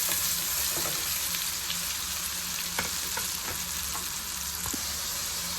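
Whole garam masala spices, including cloves and cinnamon, fry in hot oil with a constant dense sizzle and crackle, close and even throughout, with faint stirring.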